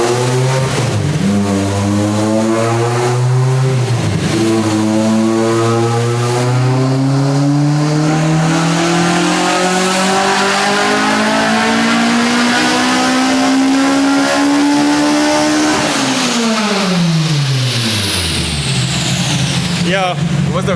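A Honda K20A engine with Spoon parts in an EG chassis screams through a dyno pull, revving steadily upward for about fifteen seconds to a loud peak before dropping off, very loud and close.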